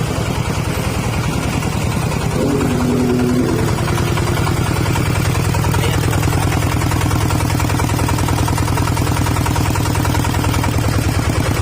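An engine at a gold processing site in Pantukan, Philippines idles loudly with a steady, even chugging, then the tone drops slightly as it begins to wind down near the end.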